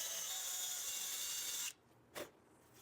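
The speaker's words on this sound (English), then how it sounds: "from that mark, I'm going to drill a 5/16 hole." A power drill boring a 5/16 inch hole in a picture frame runs with a steady high whine for under two seconds, then stops abruptly, followed by a brief faint knock.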